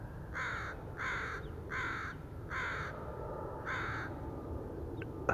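Crow cawing outdoors, five evenly spaced harsh caws in a steady rhythm, fairly clear over a low background rumble.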